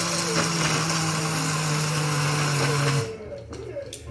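Small kitchen blender whirring steadily as it grinds egusi melon seeds, loud and close for about three seconds, then cutting off to quieter room sound with a few light knocks.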